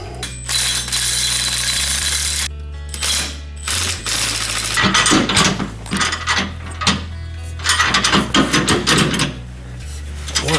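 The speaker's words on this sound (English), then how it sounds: "Lower axle tube bracket. Okay, let's snug those up." Ratchet snugging bolts on the lower axle tube bracket while installing an air spring system on a 2017 Ford Super Duty F350, with repeated rapid clicking bursts close up and clanks of metal tools between strokes.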